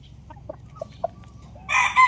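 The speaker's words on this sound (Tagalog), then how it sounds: "Yung hiraw natin tumitilaok na." An early-maturing Allen Roundhead hiraw rooster gives a few soft clucks, then bursts into a loud, close crow near the end.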